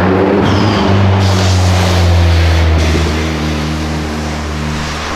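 Turbocharged Mitsubishi Lancer with a bodykit revving nearby, a loud sustained engine drone with rising and falling harmonics and throttle swells, heard alone without talk.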